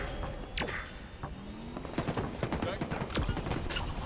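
Pistol shots ring out in a multiplayer match of Alien: Isolation, several sharp cracks spread irregularly across a few seconds amid game noise, with a voice briefly present.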